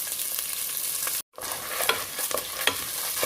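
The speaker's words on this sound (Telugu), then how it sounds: "ఈ కందిపప్పుని దోరగా వేయించుకోవాలి." Unwashed toor dal is dry-roasted in a pan, giving a close, busy sizzle with scraping stirs, broken by a short pause and then resuming.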